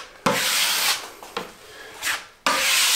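A drywall knife scrapes joint compound across screw heads on a drywall wall in long, smooth rasping strokes, with a couple of sharp starts and short pauses, close and steady, with no talking.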